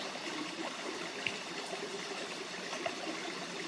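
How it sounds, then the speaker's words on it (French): Flowing river water, a steady close rushing and trickling with small gurgles, continuous and unbroken with no voices. "Posez maintenant votre attention sur le son de l'eau qui s'écoule"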